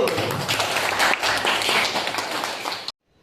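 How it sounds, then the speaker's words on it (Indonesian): An audience in a classroom-style lesson on Indonesian Islamic history bursts into dense, loud applause that fills nearly three seconds, then cuts off abruptly into near silence. "Tepuk tangan dulu"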